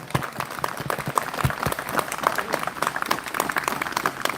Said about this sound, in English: I want a big round of applause for Ger and the farmers